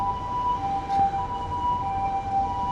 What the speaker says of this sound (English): The way that the ambulance sound echoes with the skyscrapers around, it's so much louder.